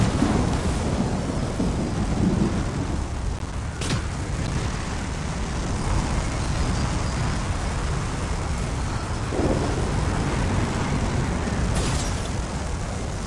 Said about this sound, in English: this rain will make them harder to find